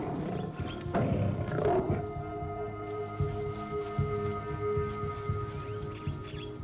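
Lions roaring in the wild, heavy low growling roars close by with a rumbling background and music underneath, no speech.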